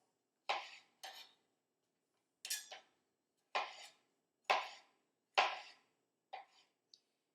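Vine-ripe tomatoes chopped into chunks with a sharp chef knife, seven separate crisp cuts landing at an uneven pace, close and clear with no voices.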